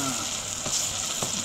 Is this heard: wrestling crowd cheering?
no